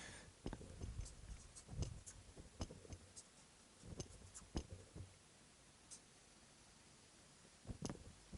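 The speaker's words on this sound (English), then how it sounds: "let me write down a few notes here" Pen or pencil writing notes by hand, heard as scattered soft scratches and light ticks spread across the clip, faint and close, with no voices.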